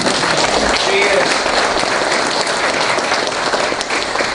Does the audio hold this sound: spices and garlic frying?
no